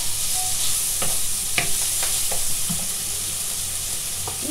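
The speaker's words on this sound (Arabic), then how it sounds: "نخليه يزيد يتقلى شويه" Onion and parsley fry in a pan with a continuous close sizzle, broken by a few light stirring clicks and scrapes; no voices.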